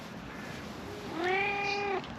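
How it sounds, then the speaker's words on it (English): A big ginger cat gives a single drawn-out meow, rising then falling, heard close up over a steady background hiss with no talking. "He's a big ginger cat as well."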